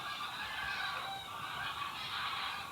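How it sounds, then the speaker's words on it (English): A flock of ducks flies past overhead, their honking and calling forming a steady, moderately distant chorus that lasts the whole moment with no one speaking. "You can hear the ducks flying past."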